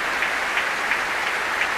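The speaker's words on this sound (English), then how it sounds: "now receiving huge applause together with the London Philharmonic Choir" Concert hall audience applauding the BBC Symphony Chorus, London Philharmonic Choir, BBC Symphony Orchestra and soloists after Elgar's The Dream of Gerontius, conducted by Andrew Davis; dense, steady clapping at full volume with no voices.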